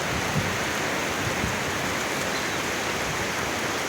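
Heavy rain pours down steadily with gusting wind, a dense broadband roar of water hitting surfaces, continuous and loud with no voices.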